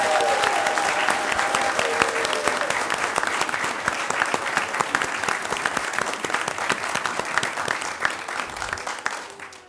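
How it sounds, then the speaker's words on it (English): An audience at a Board of Education meeting gives student artists a sustained round of clapping, dense and steady for nearly ten seconds before tapering off at the end. "how about as a close, one final round of applause for all of these incredible student artists."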